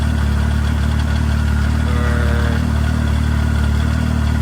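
A four-stroke snowmobile idles steadily after a cold start, warmed up to temperature, its engine making a loud, continuous, even rumble close by with no talking.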